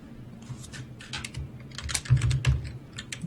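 Rapid clacking of a computer keyboard as a roll command is typed, irregular bursts of keystrokes close up with a low hum beneath.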